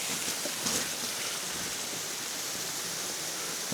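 Close, continuous rushing water surrounds a person wading in the middle of an icy stream, a dense steady roar with a few slightly louder splashy moments near the start.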